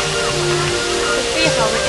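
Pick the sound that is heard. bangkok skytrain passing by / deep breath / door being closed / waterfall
waterfall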